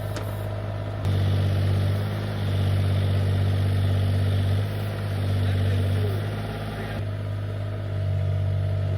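An engine idles steadily nearby with its exhaust pointing straight down, a deep, even low rumble that holds for several seconds with slight swells and no talk.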